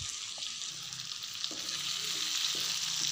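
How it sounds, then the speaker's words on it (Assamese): Potato pieces coated in spices fry in oil for a fish curry, a soft steady sizzle with occasional spatula scrapes and stirring knocks, quiet and close, no talking. "অলপ সময় এনেকৈ ভাজিবলৈ দিয়ক"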